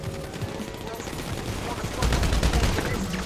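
Machine gun fire in a shooter video game, a fast burst of rattling shots that swells louder in the second half, with game noise and some voice activity around it.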